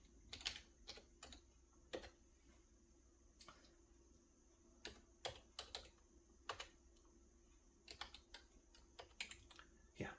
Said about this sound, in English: what I'm going to do is type for a while.